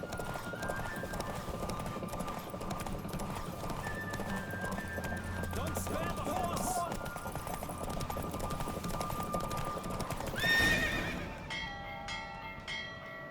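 Rapid rhythmic hoofbeats of a horse galloping with a whinny in The Witcher 3: Wild Hunt, set against game music and effects, with a voice talking over it.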